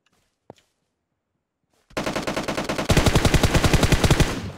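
Rapid automatic gunfire in PUBG Mobile bursts in loud and close after a near-silent start, a steady rattling volley that grows even denser partway through.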